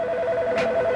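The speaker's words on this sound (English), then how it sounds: "the phone is ringing" Electronic telephone tone, a sustained steady two-pitch electronic ring, loud and close.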